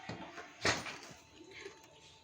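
A pressure cooker lid is shut during the cooking of Khandeshi thooli, making one short, solid clunk near the middle with a quiet room behind it.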